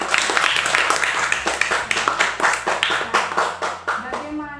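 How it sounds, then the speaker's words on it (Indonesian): A class of fifth-grade pupils claps their hands together in a short burst of applause, a dense patter of many hands fading out at the end. "Tepuk tangan untuk mereka."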